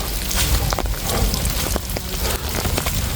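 Rain falls on the rocky coast at Daewangam in a dense, steady patter with scattered sharper drops striking nearby surfaces, loud and close, with low rumbling wind or surf underneath and no talking.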